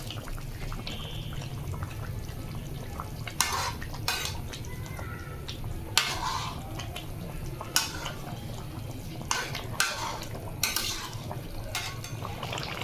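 Vegetables with potatoes being stirred in a pan as chopped tomato goes in, giving sharp metallic clinks and scrapes of utensil on cookware at irregular intervals over a steady low kitchen hum, fairly close.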